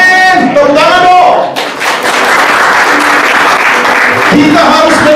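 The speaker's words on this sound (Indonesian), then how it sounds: "Tepuk tangan dong." A church congregation at a Sunday service bursts into sustained hand clapping that fills the hall, following a brief stretch of a voice speaking at the start.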